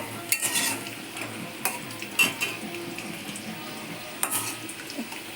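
Potatoes frying in a pan in a home kitchen, with a soft sizzle under repeated sharp clinks and scrapes of a utensil stirring against the metal pan.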